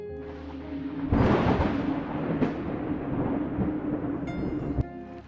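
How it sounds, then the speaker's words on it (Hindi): Heavy rain falls in a storm sound effect, a steady roar with rumbling thunder swells, layered over a soft musical drone, with no voices. "अचानक से तेज बारिश शुरू हो जाती है"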